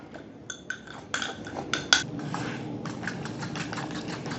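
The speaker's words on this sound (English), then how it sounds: "So now we'll take this and we will mix this with our butter." Brown sugar being mixed into butter in a bowl, a series of light clinks and scraping taps from a utensil against the dish, quiet and irregular with a few sharper knocks early on.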